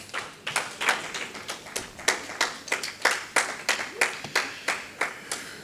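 A church congregation claps after the scripture reading, with steady, fairly loud and rhythmic hand claps close together and no voices over them.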